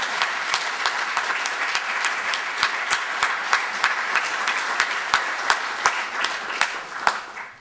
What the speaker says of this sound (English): I'd love to give Judy a round of applause